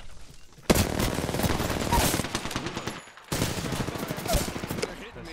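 Gunfire in the video game Apex Legends sounds as sustained, rapid automatic bursts, loud and close, broken by a sudden short gap before firing resumes, with game sounds layered underneath.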